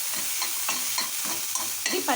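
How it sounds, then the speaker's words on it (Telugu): Small pieces of ginger fry in oil in a pan with a close, steady sizzle and rhythmic scraping stirs every fraction of a second, with no talking. "ఇది పచ్చి వాసన అయ్యేదాకా ఫ్రై చేసుకోవాలి మనం"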